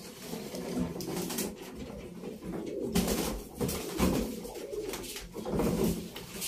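Gök pigeons coo repeatedly in a loft, soft low rolling calls overlapping in a steady rhythm, fairly close but quiet, with light rustling between phrases.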